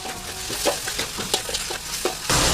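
Megi Goreng noodles stirred in a frying pan, a steady sizzle under repeated scraping strokes of the utensil, with a brief louder burst of frying near the end.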